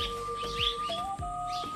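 A swallow chick that fell from its nest before it could fly chirps at a rural home, with short, thin calls repeating over a steady hum.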